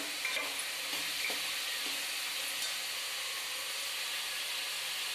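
Ingredients fry in hot oil in a pan for a Karnataka-style chickpea gojju, giving a soft, continuous sizzle and hiss at low volume with a few faint clinks of stirring.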